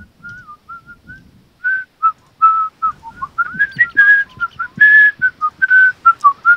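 Someone whistles a lively melody alone, in short bright phrases with quick pitch jumps, close and clear.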